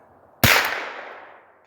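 A single sharp crack of a rifle shot striking a steel target at range, an abrupt loud impact followed by a ringing, fading decay in a quiet outdoor setting.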